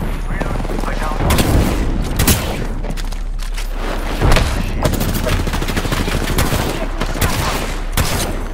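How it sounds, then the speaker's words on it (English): Dense gunfire from the battle royale shooter Apex Legends, with repeated bursts and sharp shots crackling almost without a break and a few heavier booms standing out, loud and close throughout. "I'm getting shot at."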